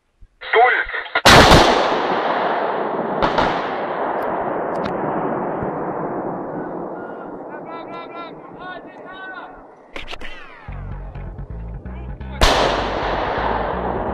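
Artillery guns of an Estonian firing battery during a 2011 indirect-fire exercise: several heavy, booming blasts, spaced seconds apart, with long rumbling decays, loud and near, between bursts of other noise.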